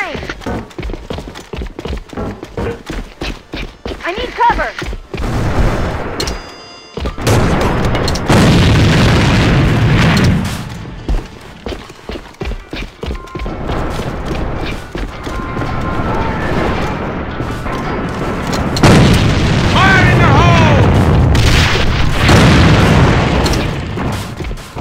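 Booming explosions and bursts of gunfire from a military shooter game set around an E-boat, loud and sustained across the clip, with radio-style voices calling out over the combat.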